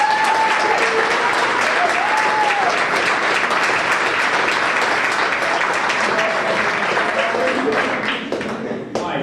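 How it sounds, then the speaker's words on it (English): A crowd applauds steadily and loudly for several seconds at an NHS banquet, dense clapping with a few voices mixed in, tapering slightly at the end. "just give him a round of applause."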